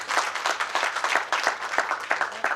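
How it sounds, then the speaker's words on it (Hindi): A seminar audience in Delhi claps together in a dense, continuous round of applause with rippling individual claps, fairly close and steady for about two and a half seconds. "एक बार धन्यवाद के रूप में ताली"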